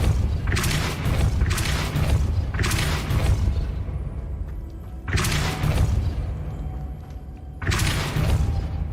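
The Depulso force spell in Hogwarts Legacy fires repeatedly as sharp, booming blasts at roughly one-second intervals, with brief gaps between volleys and a rumbling tail after each.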